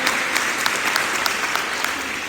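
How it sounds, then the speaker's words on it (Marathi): A church congregation at a Sunday service breaks into loud, sustained applause, dense clapping filling the room evenly throughout. "एकदा जोरदार टाळ्या वाजवून धन्यवाद देऊया"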